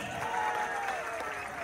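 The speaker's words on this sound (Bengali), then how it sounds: "বাংলাদেশের সমস্ত বাইকারদের জন্য জোরে একটা হাততালি হবে" Applause for bikers at a CF Moto grand opening rally, a short, fairly faint wash of crowd clapping over a continuous background hum.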